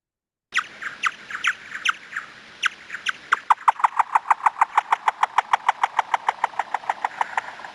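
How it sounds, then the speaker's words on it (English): A rapid series of sharp, chirping clicks, sparse at first then speeding into a steady, evenly spaced train: a bat's echolocation call lowered in pitch to become audible. "a scientist who took that chirp and he changed the pitch so that we can actually hear it"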